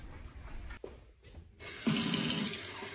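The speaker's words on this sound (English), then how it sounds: "Just drinking some tap water." A kitchen faucet turns on, and tap water runs hard into a sink in a loud, steady rushing gush after a few quiet clicks and pauses.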